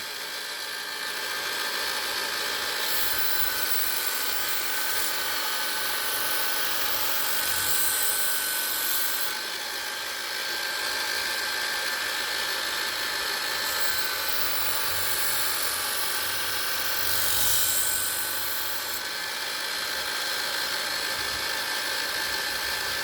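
A hand grinder sharpens a sickle with a continuous, loud, high-pitched whine. Its grinding swells briefly around two points, and no one speaks.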